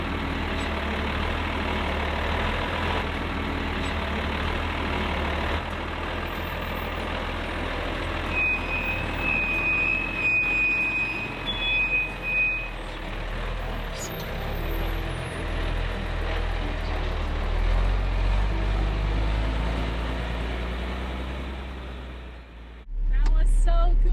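A 37-year-old Unimog 4x4 truck rolling down a steep dip into a wash and climbing out, its engine a steady low rumble heard from inside the cab, with some faint chirping and talk along the way.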